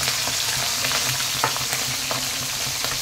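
Pabda fish frying in hot oil, a steady loud sizzle with sharp pops and spatters bursting through at irregular moments, close up and with no talking.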